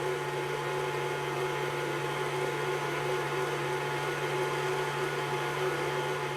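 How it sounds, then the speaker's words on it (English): An electric mixer whisking cream as it thickens toward butter, giving a steady, constant motor whir with a low hum throughout and no voices. "just keep on whisking"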